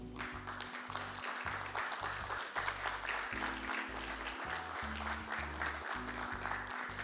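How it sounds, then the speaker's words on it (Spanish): Steady applause from an audience after a talk on lutherie at a craft event, a continuous dense patter of clapping holding at even loudness throughout, with no voices over it. "Gracias por los aplausos y la atención igual"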